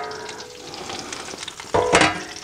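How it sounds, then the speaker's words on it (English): Pork crackling sizzles while it roasts in a wood-fired oven at just over 200 degrees, a steady close crackle that swells into a louder burst of spitting fat near the end. "We can hear that lovely sizzling"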